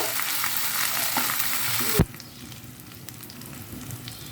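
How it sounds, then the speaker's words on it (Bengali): Ingredients fry and get a brief stir in a hot pan for a rupchanda fish bhuna, a loud close sizzle that cuts off abruptly after a clunk and leaves a faint hiss. "এটাকে আমি হালকা একটু নেড়ে ছেড়ে নিব"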